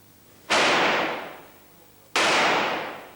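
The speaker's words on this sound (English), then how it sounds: "Shooting on a Sunday." Two loud, sharp gunshots from licensed gun owners firing at a shooting range in South London, each a sudden crack followed by a long decaying echo, about a second and a half apart.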